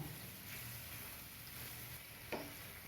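Eggs being sautéed in a spicy masala with capsicum, giving a steady low sizzle and frying hiss with soft stirring scrapes and one brief sharper clink near the end.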